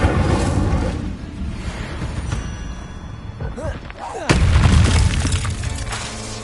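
An Incendio fire spell cast in the Hogwarts Legacy video game bursts out as a sudden loud whooshing boom partway through, over a continuous bed of game ambience and sound effects.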